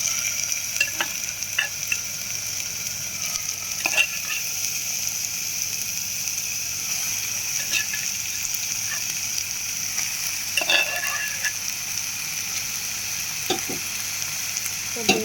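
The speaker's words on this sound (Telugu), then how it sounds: "ఇప్పుడు మనం ఈ మ్యాగ్నేట్ చేసుకున్న చికెన్ కుక్కర్లో ఇలా వేసేసుకుందాము." Marinated chicken sizzles steadily in a pressure cooker, a continuous loud frying hiss with occasional soft knocks and stirring clicks, close by and without talk.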